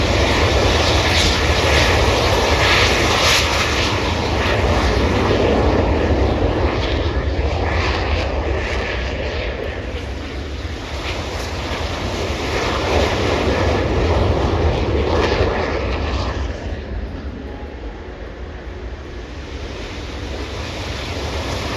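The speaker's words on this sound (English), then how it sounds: "Afterburner on, full power, launching like a rocket." A jet aircraft taking off at an air tattoo with afterburner at full power, a loud sustained roar with wind buffeting that swells and eases, then thins out toward the end.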